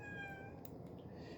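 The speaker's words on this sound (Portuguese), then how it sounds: "meu gatinho está aqui, está participando da aula e deu uns miadinhos" A pet cat meowing indoors, one short drawn-out meow heard faintly in a quiet room.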